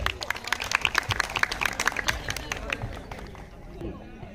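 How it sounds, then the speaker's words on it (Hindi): A crowd at a college freshers' day celebration claps in a scattered, lively burst of sharp individual hand claps that thins out and fades after a few seconds, with voices mixed in. "जोरदार तालियों के लिए।"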